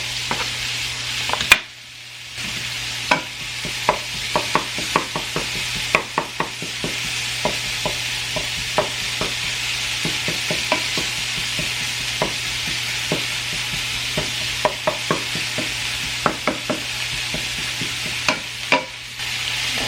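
Garlic sizzles steadily in a frying pan on a home stove while a utensil stirs it, clicking and scraping against the pan in a quick irregular rhythm, close and fairly loud, with no talk.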